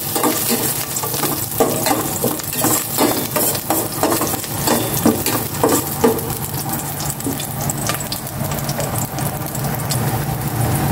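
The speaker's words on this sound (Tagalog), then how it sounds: "Maglagay na ako ng cooking oil. Gisa ko na itong bawang." Garlic sautéing in hot cooking oil, a constant loud sizzle punctuated by repeated scraping and stirring strokes of a utensil against the pan, with no talking.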